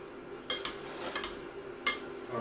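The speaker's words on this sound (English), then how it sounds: "I'm going to give it a mix, make sure the vegetables and potatoes all mixed together with the ketchup" A spoon clinks and scrapes against a plate while stirring reheated potatoes and vegetables with ketchup, giving a handful of sharp, close metallic taps at an uneven rhythm with soft scraping between them.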